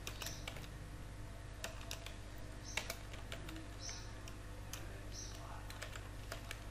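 Typing HTML code on a computer keyboard for front-end web development, heard as quiet, scattered clicks in irregular bursts over a steady low hum.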